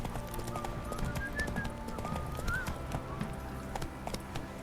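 Roach, a horse in The Witcher 3 game, gallops with a steady rapid clip-clop of hooves that runs throughout, with an occasional whinny and background music.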